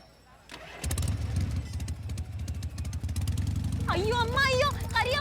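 A motorcycle's electric start kicks the engine into life after a brief whir, settling into a loud, close, steady idle while a voice speaks excitedly over it near the end.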